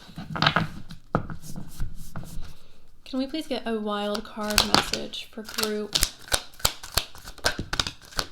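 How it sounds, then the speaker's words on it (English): Tarot cards are shuffled with rapid riffling clicks and slaps, close up, while a person talks over the shuffling at times. "let's start with the shuffle"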